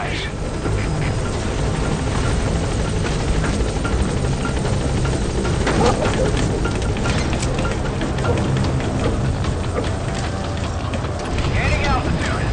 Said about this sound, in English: Support helicopter requested. Arriving shortly at LZ.